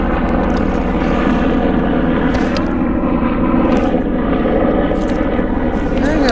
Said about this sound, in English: Wave to the helicopter.